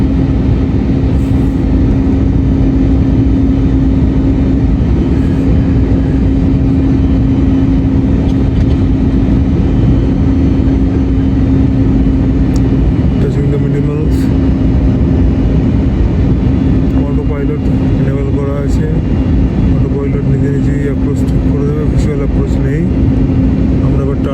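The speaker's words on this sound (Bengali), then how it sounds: "ল্যান্ডিং গিয়ার ডাউন হয়েছে বলে আওয়াজ যথেষ্ট ভালো হয়েছে" Inside an IndiGo airliner on approach with the landing gear down, a loud constant engine roar and rushing air fill the cabin throughout, with a steady drone under occasional faint sounds.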